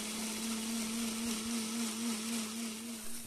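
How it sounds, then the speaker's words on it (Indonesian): Spices being ground in an electric blender, a steady close motor whine with a constant hum and faint grinding texture throughout, no voices. "Haluskan semua bumbu kecuali daun salam,"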